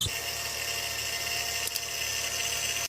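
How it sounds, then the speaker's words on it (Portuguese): A car's power steering pump gives off a steady, high-pitched mechanical whine with a constant hum beneath it, loud and close, running unbroken for about three seconds with a brief click near the middle. "Bomba da direção hidráulica."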